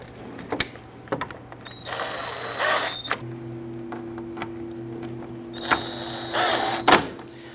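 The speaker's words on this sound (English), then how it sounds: "Once you have the grill installed, go ahead and install your 7mm screws." A power tool drives 7mm screws into the grille insert of a 1999-2004 Jeep Grand Cherokee, with short whirring bursts separated by quieter pauses and clicks, heard up close without talk.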